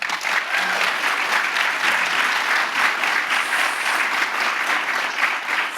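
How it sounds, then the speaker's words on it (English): Steady, dense audience applause for the panelists at a live podcast panel on digital literacy, holding a constant level without voices throughout. "Big round of applause for our panelists."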